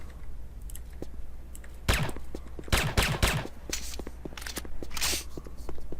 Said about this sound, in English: This first weapon is the Vervac Commando Elite Falcon automatic pistol.